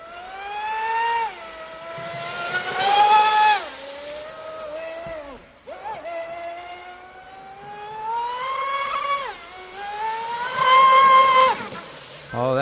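Hydra X8s RC boat with a TP Power motor and Castle ESC running at full throttle, its high-pitched electric whine rising and falling through repeated passes and hard turns, loud and fairly close across the whole stretch.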